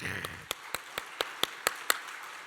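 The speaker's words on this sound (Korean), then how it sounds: "우리 찬양단, 우리 박수 한번 쳐주시다." A church congregation claps for the praise team in a slow, evenly spaced rhythm, about nine sharp claps over a few seconds, with a faint voice underneath at the start.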